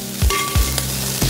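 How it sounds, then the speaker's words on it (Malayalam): Chopped celery being stirred into garlic butter rice frying in a pan, with a steady sizzle and a few sharp spatula scrapes against the pan. There is no talking. "ഇനി നന്നായിട്ടൊന്ന് ഇളക്കാം."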